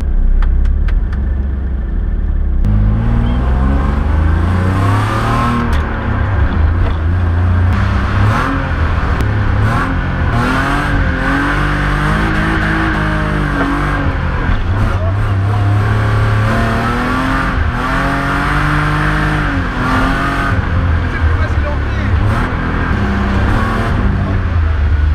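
A BMW E36 drifting on a freshly paved race circuit, its engine revving hard and rising and falling through gears, loud and close throughout, with some voices faintly underneath.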